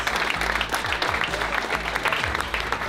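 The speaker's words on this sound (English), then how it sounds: "Give yourselves a huge round of applause." An audience at a live magic performance for the LA Dodgers applauds, with dense, steady clapping from many hands close by that holds throughout with no talking.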